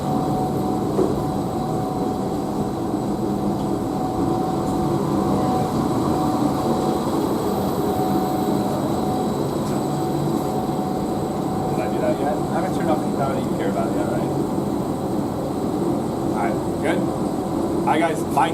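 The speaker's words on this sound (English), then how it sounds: "The last thing we have in here is the booster pump skid." Domestic water booster pump skid in a university mechanical room, a constant machinery hum with a steady tonal whine filling the space, with speech briefly over it.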